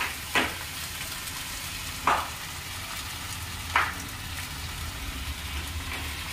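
Cooked rice frying in a pan, a steady close sizzle throughout, broken by three brief scraping stirs spaced about two seconds apart over a low background hum.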